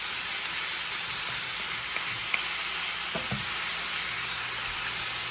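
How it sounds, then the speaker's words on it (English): Thinly shaved steak for Philly cheesesteak fries on a stove set to high, filling the scene with a steady, loud sizzle and hiss, broken only by a few faint scrapes and taps. "Got my stove on high, and it's not going to take a long time to cook because it's thinly sliced"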